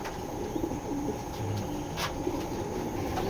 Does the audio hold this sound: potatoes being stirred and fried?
no